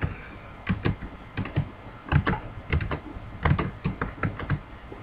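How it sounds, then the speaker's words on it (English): Rapid clattering keystrokes on a computer keyboard as a basic Java program is typed, in uneven bursts with short pauses, close and clear with no talking. "First type the comment."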